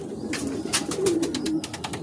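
Pigeons, one of them moulting and losing wing feathers, coo nearby in low, soft throaty phrases over a background of rustling and light clatter.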